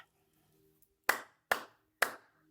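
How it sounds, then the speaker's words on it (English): Three sharp hand claps, evenly spaced about half a second apart, ring out close and loud at the end of a guided mindfulness meditation after a quiet pause, with no talking. "clap 3 times to come back out of the meditation"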